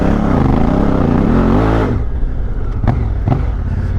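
A Honda Africa Twin motorcycle engine revs hard off-road, climbing in first gear then dropping in pitch as it shifts into second, loud and close with a rough, pulsing note.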